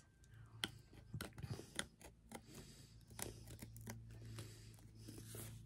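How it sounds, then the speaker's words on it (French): Small, long-owned scissors trim excess paper and lace on a handmade mini album page, making a series of quiet, close, crisp snips in an uneven rhythm. "avec des petits ciseaux là, que j'ai depuis des années, hop, je coupe ce qui dépasse"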